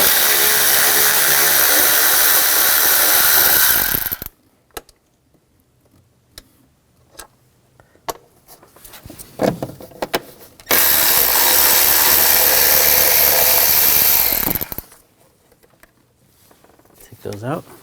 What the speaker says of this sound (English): Take these bolts out.